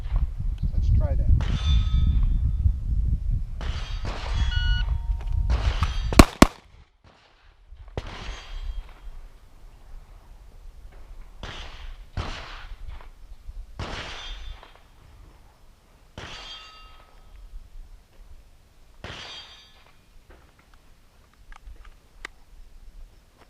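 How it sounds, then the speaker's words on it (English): Handgun shots fired from retention against a shot timer: a sharp opening shot, then several spaced, loud cracks with short ringing tails and quieter sounds between them, close by outdoors. "That was shooting from retention."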